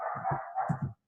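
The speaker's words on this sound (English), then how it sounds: "I have a dog who has come in and is being very loud" A dog indoors gives a quick pair of short, loud barks, close by and with nothing else around them.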